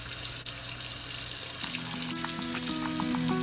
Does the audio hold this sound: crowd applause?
no